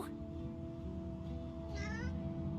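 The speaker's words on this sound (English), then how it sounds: "The cat begins to purr and rub itself on your ankles." A cat in the fantasy role-playing game Divinity: Original Sin 2 gives a short, faint meow over a steady low game hum and background music.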